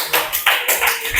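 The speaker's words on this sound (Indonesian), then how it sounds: "tepuk tangan buat Rafa" Classroom of eighth-grade students applauding a classmate, a burst of clapping that swells in uneven waves for about a second, fairly close and loud with no voices over it.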